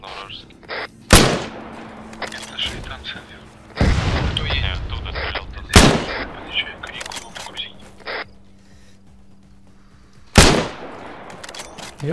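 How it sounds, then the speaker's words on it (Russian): Several loud single Enfield rifle shots ring out in the game ArmA 3, spaced a few seconds apart, each followed by a short echoing tail amid quieter background noise. "Энфилд там стреляет."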